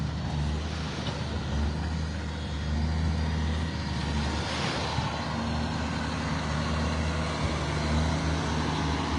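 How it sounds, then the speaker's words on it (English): Trucks idle and rumble in a line on a road by Vanderbilt Beach in North Naples, Florida, a steady, close, low engine drone that lasts throughout, with no one speaking. "Trucks are lining up."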